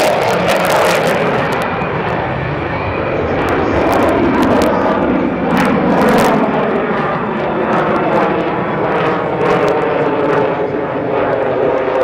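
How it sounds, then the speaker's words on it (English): A two-seat F-16D fighter jet flying at the Florennes International Airshow 2012, a loud sustained engine roar that swells and holds steady, with crowd and wind noise beneath. "This is a two-seat F-16D, flown by Captain Andrelakis"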